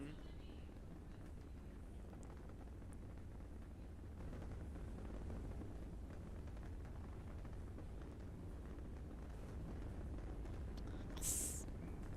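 Rocket engine ignition and liftoff in the video game Kerbal Space Program: a steady, heavy low roar that swells a little after the first few seconds and keeps rumbling loudly throughout, with a brief bright hiss near the end.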